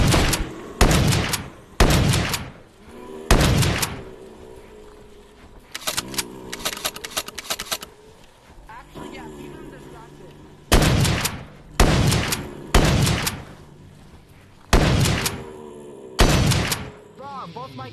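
Upgraded guns in a zombie survival video game fire in repeated loud bursts of rapid shots, several clusters spread across the stretch with short pauses, while players talk in between.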